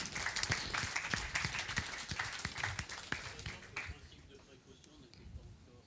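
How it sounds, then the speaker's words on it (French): Audience applause after a chemistry demonstration on water and bubbling, steady hand clapping from a crowd that gradually fades over several seconds, with some voices mixed in. "On va les applaudir bien fort."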